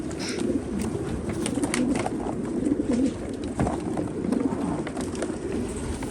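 Pigeons coo continuously at a pigeon auction, several birds giving soft throaty rolling calls close by against a busy indoor background.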